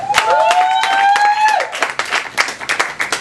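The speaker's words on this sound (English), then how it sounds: "Y'all give a round of applause for my boy" A crowd of audience members clapping and cheering for a performer, with the applause rising in bursts under a sustained tonal sound before it breaks into scattered claps.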